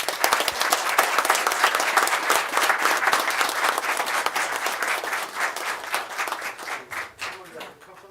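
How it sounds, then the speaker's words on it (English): A round of applause fills a county commissioners meeting room for a line of deputies, with close, dense clapping that holds steady and then tapers off in the final seconds. "Let's give these gentlemen a round of applause."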